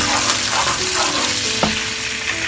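Curry leaves sizzle in hot kadhi, a steady, loud frying hiss with faint scraping from stirring throughout.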